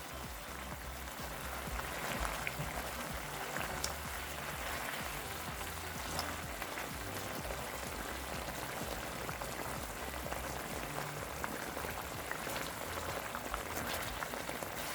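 Pork neck steak simmers in a reducing doenjang sauce with a spoonful of sugar, a steady, quiet bubbling and fine crackling sizzle running continuously without talk.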